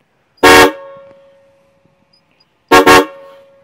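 Two loud blasts of a deep, brassy car horn, a short one followed by a longer double honk, close by; early-1990s Cadillac horns fitted to a 1978 Honda CX500 motorcycle.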